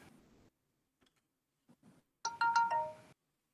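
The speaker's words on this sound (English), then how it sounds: "Was that the notification for me sending it on Discord?" A Discord message notification plays a short bright chime of a few quick tonal blips, clear and fairly loud after some faint, scattered sounds.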